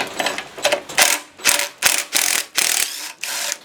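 A ratchet wrench clicks in rapid bursts, close and loud, as it loosens a half-inch bolt holding the carburetor on an MTD Quattro push mower.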